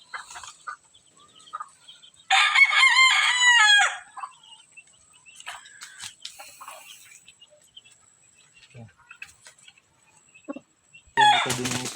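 A rooster, a breeding cock, gives one loud, close crow early on, followed by quieter clucks and stray noises, then starts another crow at the very end.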